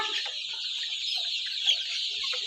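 Thirty-six-day-old Egyptian Fayoumi chickens cluck and chatter softly among themselves, their scattered calls sitting over a constant high hiss of background noise.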